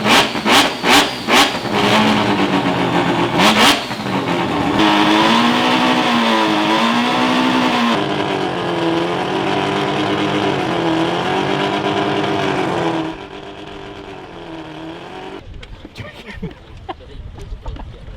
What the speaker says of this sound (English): it's a good sign to see he's already drifting